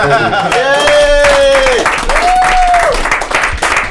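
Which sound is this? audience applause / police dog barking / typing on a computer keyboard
audience applause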